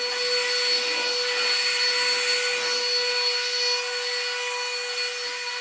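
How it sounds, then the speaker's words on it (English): Leaf blower clearing debris off a porch during garden cleanup: a loud, steady, high-pitched motor whine with a constant airy rush that surges slightly early on, then holds even, with no voices. "The last thing I'm going to do is use a blower to clean off the debris."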